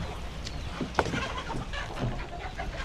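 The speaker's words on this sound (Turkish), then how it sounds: "Tavuklar, horozlar, küçükler, büyükler hepsi savaş." Chickens and roosters cluck and squawk in a restless, overlapping jumble as they squabble, with a sharp flurry near the start and steady agitated clucking throughout.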